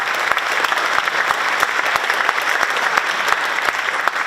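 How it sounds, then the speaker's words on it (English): Applause from an audience at a company's 50th anniversary event, a dense, even wash of many hands clapping throughout with a few sharper individual claps standing out, no talk. "that deserves a round of applause"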